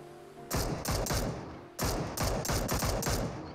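PUBG Mobile automatic gunfire at night comes in two loud, close strings of rapid shots, separated by a brief pause.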